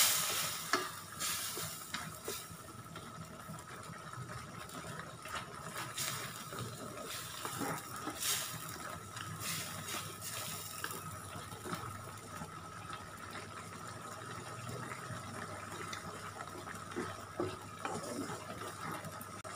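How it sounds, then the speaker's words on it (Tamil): Mango sambal simmering in a pan, giving a steady bubbling sizzle with the scrape of stirring. The cooking noise runs close and continuous for the whole stretch, with no talking. "இப்போ பாருங்கள் நல்லா கொதிச்சிருச்சு, மாங்காய்லாம் நல்லா வெந்துருச்சு"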